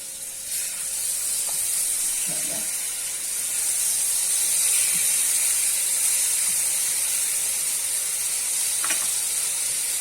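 Chopped tomatoes go into a frying pan of sizzling red peppers, a strong continuous hiss swelling slightly as they land, with a few faint knocks and clicks, close and without talk.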